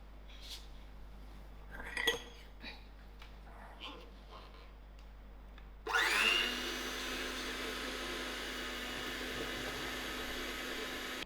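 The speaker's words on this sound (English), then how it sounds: "I'm going to cream my butter and sugar together with my electric" An electric mixer creams butter and sugar for red velvet cupcakes, switching on abruptly after some quiet kitchen clatter and then whirring steadily and fairly loud until the end.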